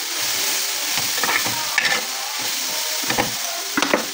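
Small anchovies (dilis) and plenty of tomatoes sauté in a pan, making a steady, close sizzle punctuated by several scraping stirs of a spatula.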